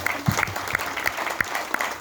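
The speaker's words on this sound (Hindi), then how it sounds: "एक बार तो मैं उनके लिए दिल से तालियां बजाने कहूंगा," A brief burst of scattered hand clapping from a small group, light and uneven, with faint background murmur.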